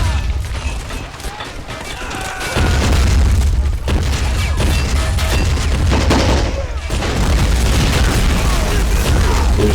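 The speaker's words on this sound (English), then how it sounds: "Instantly we've just got a super exchange of fire." A heavy gunfire exchange in Army Men of War, with continuous loud booms, shots and crashing impacts layered densely throughout, briefly dipping before the battle noise surges again.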